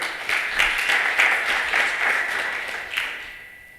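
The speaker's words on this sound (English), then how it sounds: "I think that deserves a clap." Audience applause at an innovation week and industry summit, a steady wash of many hands clapping at moderate loudness for a few seconds, then fading out alone without talk.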